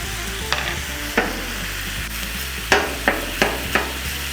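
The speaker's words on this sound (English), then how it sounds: "now let's go ahead and add our chorizo" Chorizo sizzles steadily on a Blackstone flat-top griddle, a continuous frying hiss broken by sharp scraping and tapping clicks of a spatula working the meat, close and clear with no talking.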